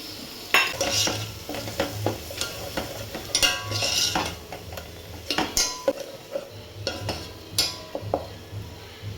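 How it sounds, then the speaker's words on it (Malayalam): Masala is tipped into a hot pan and stirred while it fries, with repeated scraping strokes of a spoon against metal over a continuous sizzle, close and fairly loud, with no voices. "ഇപ്പം ഞാൻ എടുത്തു വെച്ചേക്കുന്ന മസാല അതിനകത്തോട്ട് ഇട്ട് കൊടുക്കാം"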